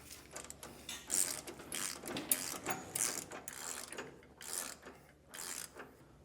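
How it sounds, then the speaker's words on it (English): A 24mm socket wrench ratchets in repeated bursts of close clicking as it tightens end link bolts on a 2004 Ford F-53, with short pauses between strokes. "I'm going to be using a 24mm socket and wrench to do so."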